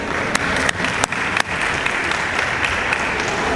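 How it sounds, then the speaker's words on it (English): An audience at the inaugural JetBlue flight celebration in Curaçao applauds, a dense, even wash of clapping with a few sharper claps standing out near the start. "I think it's worth applause, don't you?"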